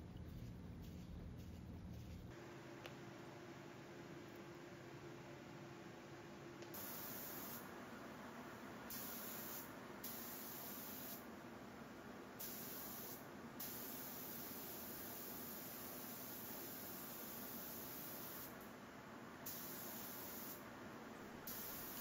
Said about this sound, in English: So I use my Performance 3M spray gun